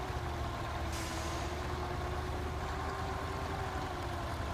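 A Peterbilt log truck engine in the logging game Spintires drones steadily at a low, constant pitch, with a brief hiss near the start, and no voices over it.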